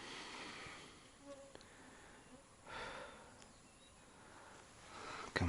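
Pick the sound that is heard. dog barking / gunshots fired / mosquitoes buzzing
mosquitoes buzzing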